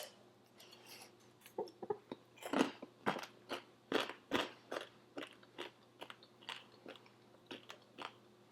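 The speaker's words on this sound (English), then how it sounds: "And even better chip crunch." Thin, skinny chicken chips crunch and crackle as they are chewed, a steady rhythm of about twenty close crisp bites over a quiet room, with no talk.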